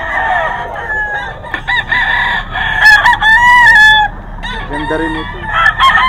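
Hatch Gray gamefowl roosters crow repeatedly and cluck nearby, loud overlapping calls at a rooster sale, with people talking in the background.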